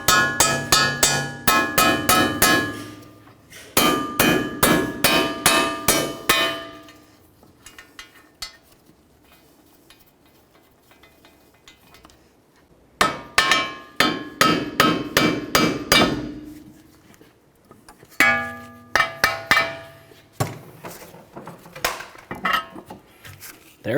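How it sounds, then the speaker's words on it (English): A hammer strikes the front wheel knuckle of a 2006–2012 Ford Fusion, landing loud metallic blows in quick bursts of rapid repeated hits, separated by short quiet pauses. "Now let's just give these a couple loving bonks,"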